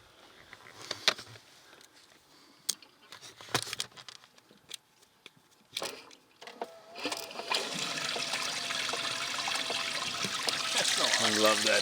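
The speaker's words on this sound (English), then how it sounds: "Get the pump flowing." A gas-powered pump starts up and pushes water into a gold-prospecting sluice, building into a steady rushing flow over the last few seconds after scattered knocks and handling sounds, with people talking at the start.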